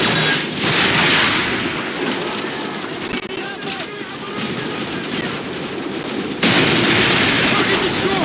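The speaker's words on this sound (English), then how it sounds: "Suppressing fire!" Dense gunfire crackles through a Call of Duty 4: Modern Warfare (2007) battle, loud and almost continuous, with bursts and explosions layered over a busy combat din that includes shouted voices.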